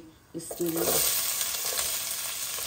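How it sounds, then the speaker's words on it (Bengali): Onions, including red onions, tipped into hot oil with cumin seeds and bay leaf, bursting into a loud, steady sizzle with a few clinks as they hit the pan, then frying continuously close by. "এখন আমি পেঁয়াজ ঢেলে দিচ্ছি"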